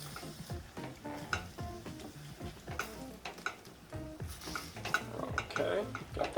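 Pork and zucchini are stirred in a sauté pan, a utensil clattering and scraping against the pan in quick irregular strokes over a soft sizzle, fairly close and without speech.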